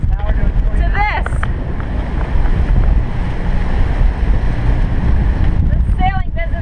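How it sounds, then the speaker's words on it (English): Strong 26-knot wind at sea buffets a sailboat, loud continuous rushing and microphone gusts with water noise beneath, while a voice is briefly heard near the start and end. "26 knots of wind."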